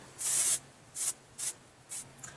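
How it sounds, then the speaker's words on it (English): Four quick spritzes of heat-protectant spray onto hair from a spray bottle, the first one longest, then three shorter hisses at a steady pace, close and fairly soft. "I'm just going to spray this kind of throughout my hair"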